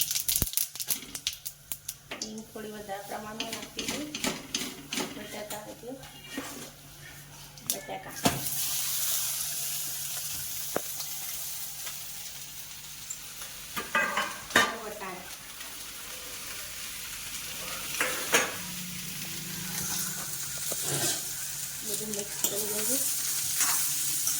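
Mustard seeds and cumin sizzling in hot oil while being stirred, a steady frying hiss with scattered crackles and pops, close and fairly loud throughout, with a few brief scraping stirs of a utensil.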